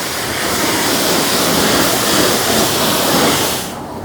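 High-pressure coin car wash wand rinsing an old AU Ford Falcon ute, a loud, steady broadband spray hiss that holds constant, then drops off abruptly near the end.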